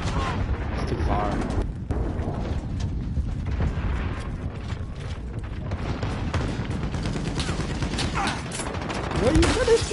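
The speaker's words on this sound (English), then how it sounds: "They're shooting from the cliff." Sustained gunfire in Call of Duty coming from a cliff, a dense run of rapid shots and impacts at mid distance continuing throughout, with a voice speaking now and then.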